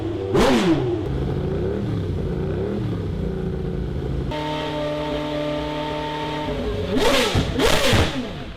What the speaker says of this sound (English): It's the sound of a car engine revving up.